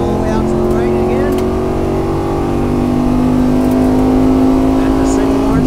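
A NASCAR race car engine drones steadily on a track during a test drive, a loud, close, continuous tone that climbs slowly in pitch as it accelerates, with an instructor's voice heard briefly over it.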